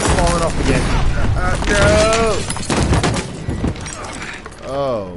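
Call of Duty battle sounds: rapid bursts of gunfire and booming impacts crowd a chaotic scene, mixed with shouting voices that talk over the noise throughout.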